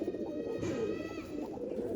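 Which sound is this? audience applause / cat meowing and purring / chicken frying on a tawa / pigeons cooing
pigeons cooing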